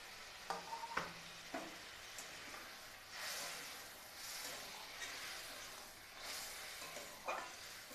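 Pieces of fried bhola fish go into a pan of curry with a little water, a soft, quiet sizzle with a few faint knocks and stirring sounds, without talk.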